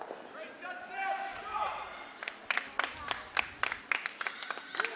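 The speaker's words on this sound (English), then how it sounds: "The clapping is for rink 7" Spectators at a high school curling match clap for rink 7, a run of sharp, uneven claps swelling in the latter half, mixed with a nearby commentator's talk.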